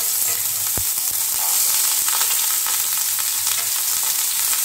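Chopped ginger, carrot, beans and capsicum frying in hot oil for fried rice, a loud, even sizzle with a few soft stirring knocks, close up and without talk.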